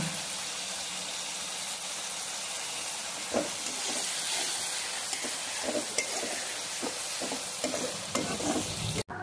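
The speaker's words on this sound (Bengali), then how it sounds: "এখন আমি কিন্তু এই মশলাটা দিয়ে দিচ্ছি, এরপর কিন্তু ভালোভাবে আস্তে আস্তে করে কষিয়ে নেব" Spice paste stir-fried in a pan, slowly cooked down: a continuous close sizzle with scattered soft scraping stirs, and no talking.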